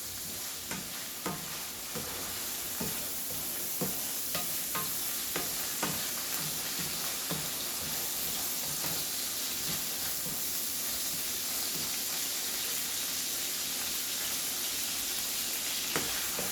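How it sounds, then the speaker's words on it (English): Onions and ground beef frying on a hot griddle for a chopped cheese sandwich, a continuous close sizzle and hiss broken by repeated sharp metal spatula chops and scrapes, no talking. "I got my onions cooking really good. I am trying to go back over and make sure all the ground beef is chopped."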